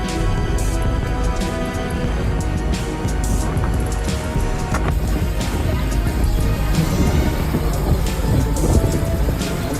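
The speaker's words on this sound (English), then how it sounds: "the ongoing severe weather at Fort Myers Beach, where rain and wind continue to batter the area" Hurricane rain and wind battering Fort Myers Beach, a steady loud roar of downpour and gusts with dense crackling rain and low rumbling, continuous throughout.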